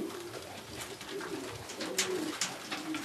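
Racing pigeons coo in soft, low, repeated calls, with a few flutters and light rustling nearby.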